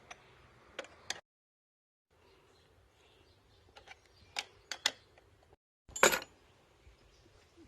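Ten-millimetre bolts are undone on a Kawasaki KLR 250 with a ratchet, heard as close, sharp metallic clicks and ticks in short bursts separated by quiet pauses, with a louder clatter near the end.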